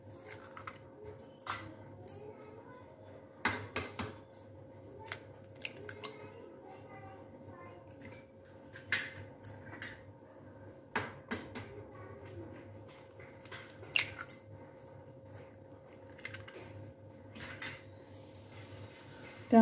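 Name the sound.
cracking three eggs into a mixer bowl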